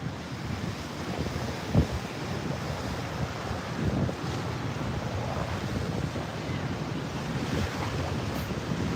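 Choppy sea waves wash up over a seaside walkway in Dumaguete, Philippines, a continuous rushing surf with occasional louder splashes, heard under steady wind buffeting the microphone and without talk.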